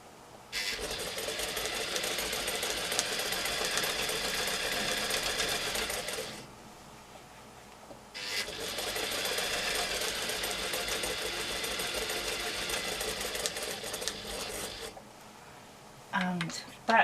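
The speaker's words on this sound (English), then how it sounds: "back stitch a few to lock your stitches" Sewing machine stitching in the ditch on a quilt, running steadily for about six seconds, pausing, then running again for several more seconds, loud and close with brief handling noises at the end.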